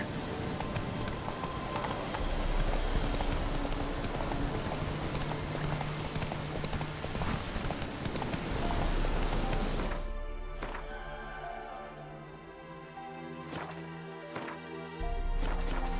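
Roach, the horse in The Witcher 3, gallops with a steady rhythm of hoof clip-clops over continuous ambient game noise, then slows to separate distinct hoof thuds near the end.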